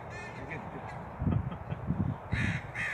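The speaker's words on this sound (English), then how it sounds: "A crow landed on the stone over there." Crows cawing outdoors in a daytime cemetery, a run of harsh, fairly loud calls in quick bursts with a pause and then another burst, over light background noise.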